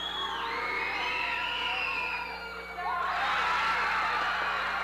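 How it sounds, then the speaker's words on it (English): A crowd at a high school basketball game cheers and shouts loudly, steady at first, dipping briefly, then swelling into a louder roar with whoops and children's yells. "the crowd is cheering"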